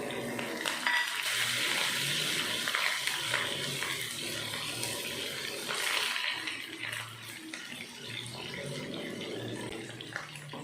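A pan tempering dried red chillies, crushed garlic, chopped onion and curry leaves for a brinjal and lentil kadayal sizzles with a loud, steady hiss. The hiss eases slightly toward the end.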